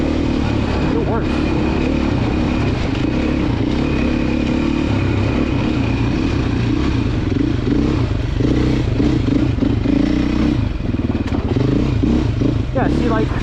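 A Beta four-stroke dirt bike engine revs and bogs continuously while being ridden through tight terrain, loud and close with clattering chassis noise, and a rider's voice talks over it.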